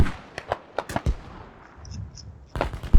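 Mortar and gunfire in a tactical multiplayer battle around Nahrain: several sharp distant reports spaced irregularly, a quieter gap with faint tones, then another burst of blasts.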